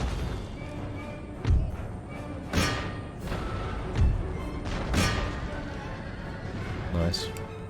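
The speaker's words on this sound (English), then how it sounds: "Cannon shot's actually doing work." Cannon artillery in Empire: Total War booms out in a loose series of about five heavy thuds a second or so apart, with distant battle noise filling the gaps and someone talking over the barrage.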